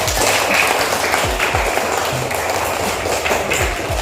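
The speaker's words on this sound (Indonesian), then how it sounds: "Tepuk tangan dulu." A school class applauds in a classroom, with dense, loud applause and a few heavier thumps throughout.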